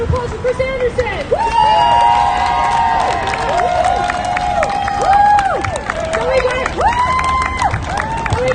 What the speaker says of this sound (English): Another round of applause for Chris Anderson.